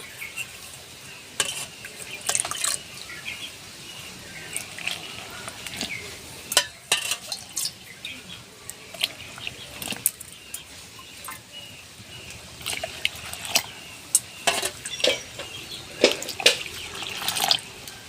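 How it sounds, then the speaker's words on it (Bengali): Water poured from a bowl into rice flour for papad batter, faint trickling and dripping splashes with intermittent sharp taps and clinks over a quiet background, no talking. "তো আমি চার বাটি পানি দিয়েছি"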